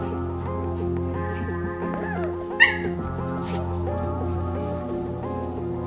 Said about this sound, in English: That's just my puppy, by the way, attacking me.